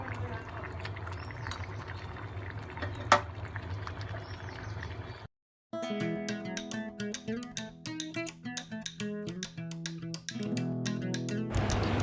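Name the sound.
pouring hot water into cooking pot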